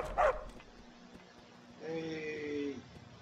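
A dog in the Skyrim video game gives a short, sharp bark near the start, followed by a drawn-out whining yelp, set against quiet ambient game sound.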